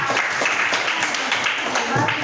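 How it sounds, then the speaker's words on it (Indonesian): Students in a classroom applaud a presenting group with steady, moderately loud clapping, and a few voices murmur underneath. "Tepuk tangan untuk kelompok 5."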